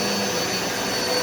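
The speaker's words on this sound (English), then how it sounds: "look what happens when I hit that spot with the vacuum" A vacuum cleaner runs on a bedroom floor in a van-life setup, a loud, steady, close whooshing roar that holds constant throughout with no other sound and no talking.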